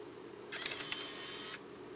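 A Wii console disc drive ejects a disc: a short whirring, clicking mechanical burst lasting about a second, with a few sharp clicks, close and fairly quiet against a hushed room.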